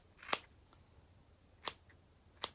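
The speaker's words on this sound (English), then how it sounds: "you're going to take your pair of scissors and you're going to cut right here where you stopped at" Three sharp scissor snips cut through braided hair, spaced out and fairly close, with quiet pauses between them and no talking.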